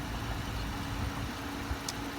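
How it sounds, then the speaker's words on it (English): A 2015 Dodge Charger SXT idles steadily after a remote start, a low, even engine hum close by with no other sounds over it. "Double press to start, the whole vehicle locks, and the engine turns on."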